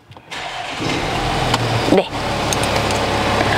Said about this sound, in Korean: 그럼 시동 걸어서 엔진 소리 들으면서 추가적인 옵션 설명드리도록 하겠습니다